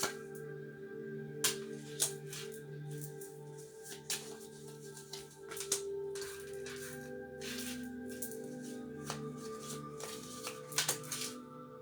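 Tarot cards shuffled and grouped by hand for a pick-a-card reading, giving soft riffling and repeated sharp taps and slaps across the whole stretch over a steady low background hum, with no talking.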